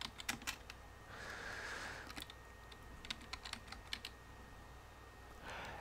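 Typing on a computer keyboard, a scattered run of light key clicks, some quick and clustered, heard faintly alone over a soft background hiss.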